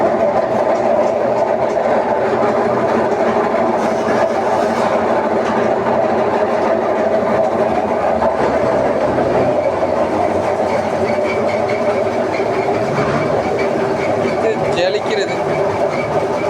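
A rice mill flattening black kavuni rice into aval runs with a continuous heavy mechanical rumble and rattle, loud and unbroken throughout, with no voices.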